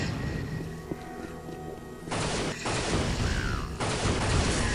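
Gunfire in the video game Unreal: a dense, continuous crackle of shots and blasts that grows louder partway through, with no talk over it.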